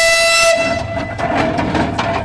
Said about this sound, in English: Listen to the whistle there.